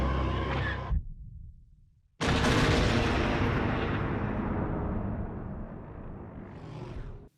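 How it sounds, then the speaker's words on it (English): A seismic charge from Star Wars, heard as a loud blast, then a short silence and a deep booming detonation that roars and slowly fades with no talk over it. "Boba Fett drops a seismic charge"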